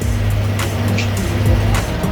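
A Honda Click 125 V4 scooter with a no-start problem is test-started, its engine settling into a steady low idle hum with a few faint clicks, loud and close with no talking.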